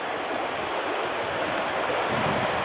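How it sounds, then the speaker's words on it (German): Water pours over a weir on the Kirnitzsch in the Kirnitzschtal, Saxon Switzerland, making a steady broadband rush that continues unbroken throughout, with no voices. "Und auch hier wieder so ein schönes Wehr."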